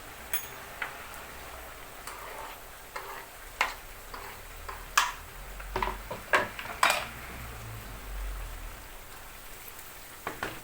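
Tomatoes just added to a pan of spiced chicken sauté cook quietly, with soft ticking, tapping sizzle-like pops scattered over a low, faint background.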